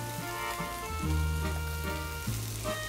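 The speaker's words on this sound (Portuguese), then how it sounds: "Deixa refogar bem." A chickpea pastry filling sautés in a pan with a soft, continuous sizzle beneath a steady tonal hum from the kitchen, fairly quiet and free of talk.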